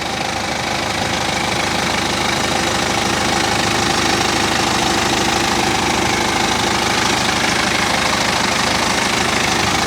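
A BMW 320D diesel engine idles steadily, a close, continuous clattery hum with a rough knocking texture and no pauses or voices.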